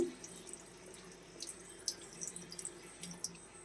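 Water splashes and drips faintly near a sink as a person applies cold water to the face at night, with soft irregular trickles and small splashes, no talking.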